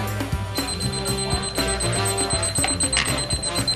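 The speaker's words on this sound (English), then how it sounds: "Do you want a digital timer? Yes, but I need a loud timer." A loud digital kitchen timer rings in rapid repeated electronic beeps, steady and insistent, close by in a shop, with faint background murmur.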